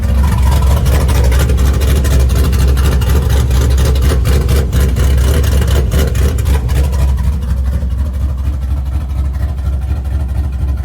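Loud, rumbling car engine with a swapped cam and new exhaust idling close up, with a deep, throaty exhaust note, steady throughout, easing slightly toward the end.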